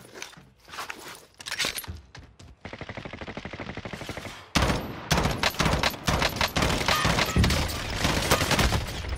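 Bursts of M4 rifle fire in Call of Duty Warzone crackle loud and close, with rapid sharp shots in dense clusters, one steady rattling run and then heavier, near-continuous volleys.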